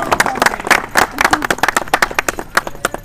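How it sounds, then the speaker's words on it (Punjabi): Hands clap in a lively, uneven rhythm, a small crowd applauding close by with sharp individual claps that overlap and then thin out. "ਤਾੜੀਆਂ"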